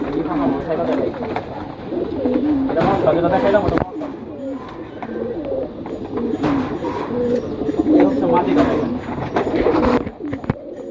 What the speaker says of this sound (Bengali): সিলভার এই কবুতরগুলো খুব ভালো